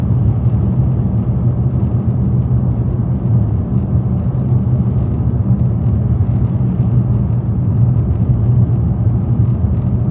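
Road traffic on the Heswall to Neston road, a continuous low rumbling drone of passing vehicles, steady and fairly loud throughout with no voices.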